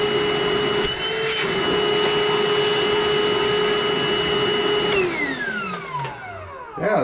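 A cordless battery vacuum cleaner with a heavy-duty flexible hose roars loudly and steadily with a high whine for about five seconds, then winds down, its pitch sliding lower as the motor stops.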